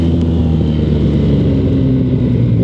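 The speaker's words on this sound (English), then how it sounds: "You can hear that gearbox really" Honda VFR 1200 motorcycle with a gearbox fault where a cog fails to engage, running steadily with a loud, continuous low drone and no talking.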